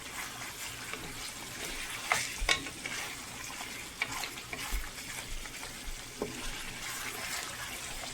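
Mutton karahi fries and sizzles in a pan while it is stirred, with a steady hiss, scraping strokes and a few sharper clatters. No one speaks.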